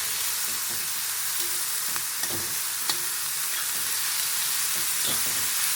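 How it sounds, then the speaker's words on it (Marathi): Cauliflower bhurji frying in a pan over a low flame, a steady even sizzle with occasional soft scrapes and taps of a spoon stirring, no voices. "चांगलं परतून घेऊया आपण हे एकजीव आणि थोडंसं असं हलक्या हाताने स्मॅश करू, कारण भुर्जी आहे कॉलीफ्लावरची."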